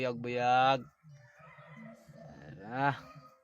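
A rooster crows loudly nearby, followed by quieter clucking and another rising crow, with faint background voices.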